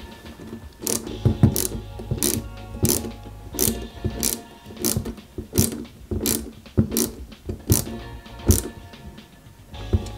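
Ratcheting clicks come in short bursts with pauses as a screwdriver drives screws into parts of a 1/8 scale Ford Gran Torino model kit, close and fairly quiet, with faint background hum.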